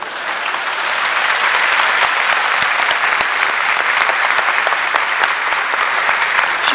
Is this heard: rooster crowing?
no